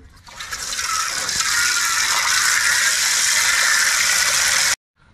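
Water pours steadily into a container while raw chicken pieces are washed for grilled chicken, a continuous close hiss with no voices that cuts off abruptly near the end.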